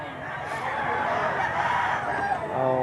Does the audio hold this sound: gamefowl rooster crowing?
yes